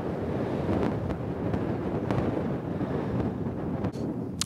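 Steady wind buffets the microphone at the 11th hole of Morecambe Golf Club, a continuous loud rushing roar with gusty swells and no talk.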